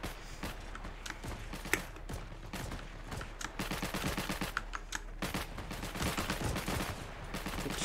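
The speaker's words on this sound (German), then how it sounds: "Schießen aus dem Haus raus, wie es aussieht." Rapid bursts of gunfire ring out from a house in the World War II video game Heroes & Generals, dense crackling volleys and single shots, fairly faint and distant, continuing throughout.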